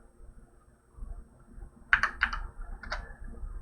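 A few quick keystrokes on a computer keyboard tap out in a short cluster near the middle, quiet and close against a faint background hum, with no voices.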